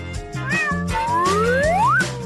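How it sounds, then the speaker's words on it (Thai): A kitten meows loudly and close up in a few drawn-out, rising cries, with a steady low hum running underneath and no speech. "ฉันซ่อนลูกแมวไว้ในกระเป๋ากล้องเดี๋ยวนี้เลย"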